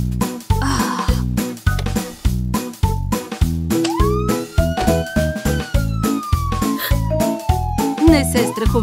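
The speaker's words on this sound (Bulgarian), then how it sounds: "Сирената съобщава на лошите, че съм тук." A wailing police car siren rises and falls over a bouncy, rhythmic music track in a children's cartoon, with a voice speaking briefly partway through.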